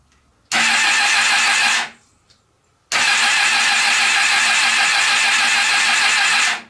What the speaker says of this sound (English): let's cycle the engine a couple times to try to get the oil everywhere